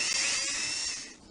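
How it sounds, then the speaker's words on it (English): A power drill whines steadily in Tonka Workshop, the 1998 PC game, boring holes for solar panel supports; one high, sustained electric buzz lasting just over a second, loud and close, tapering off at the end. "Use your drill to make holes for the solar panel supports"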